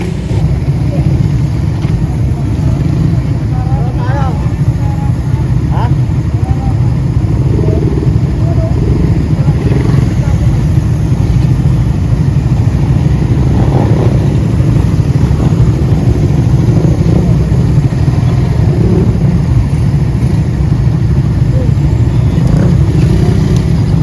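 Many motorcycles at a Suzuki dealership during a Suzuki Raider big ride, in light drizzle: a continuous loud rumble of engines idling with occasional revs. People talk over the engine noise throughout.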